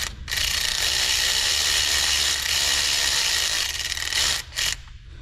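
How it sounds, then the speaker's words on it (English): A cordless ratchet whirs steadily and loudly for about four seconds, backing out bolts on a leaking Ford 6.7L Powerstroke diesel engine, then stops briefly before one short final burst. "Reverse the rotation on our cordless ratchet"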